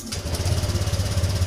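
A Honda Vario 125 scooter engine, freshly cleaned injector, catching and running at a steady rapid idle with a close, loud, even pulsing throb.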